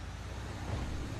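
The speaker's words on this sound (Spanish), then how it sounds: "Se escucha el motor" A car engine in Grand Theft Auto V gives a steady, dense low roar with a constant road-noise rumble that builds slightly as it accelerates. No voice is heard over it.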